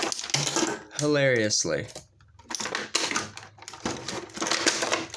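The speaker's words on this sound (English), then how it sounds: "feel free to watch me fidget and fight plastic" Plastic packaging from Bakugan toys crinkles and clicks in quick, irregular bursts while someone keeps talking over the handling.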